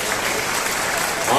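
Crowd clapping steadily and loudly at a public government event in India where the Chief Minister hands out housing scheme keys, dense applause filling the whole moment and swelling near the end.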